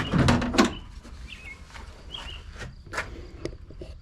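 Reverse-opening suicide door on a fourth-generation Pontiac Firebird project car, sounding as a loud clunk and latch rattle at the start, then quieter mechanical clicks and taps from the hinge hardware nearby.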